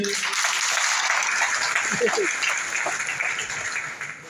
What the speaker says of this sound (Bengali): দেখি তো একটা তালি দেন তো জনি স্যার উদ্দেশ্যে।